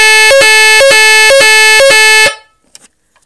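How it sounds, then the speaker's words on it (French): An AVISS EVAC type 2b evacuation fire alarm siren blares a loud, harsh harmonic tone, broken by brief regular gaps about every half second, then cuts off abruptly, leaving near silence with a few faint clicks. "C'est une sirène pendant 5 minutes."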